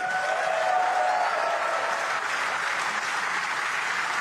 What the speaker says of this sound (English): a big round of applause, please, for Luca Brecel and Ronnie O'Sullivan.